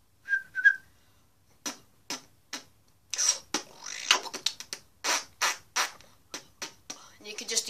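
A mouth whistle sounds, short and high, at the start of a beatbox routine. A run of crisp vocal percussion follows: clicks, hisses and snare-like bursts in an uneven beat.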